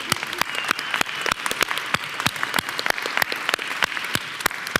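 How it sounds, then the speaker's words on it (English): Applause for women entrepreneurs at a mayoral event at the Queens Museum: a steady, fairly close round of clapping from a modest audience, with distinct individual claps standing out over a dense patter, no talk. "let's close today with a round of applause to all the women entrepreneurs for the beautiful work they have done"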